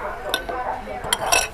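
Eggs are beaten in a bowl, with utensil clinks and scraping sounds in irregular bursts, close by, and a voice faintly present underneath.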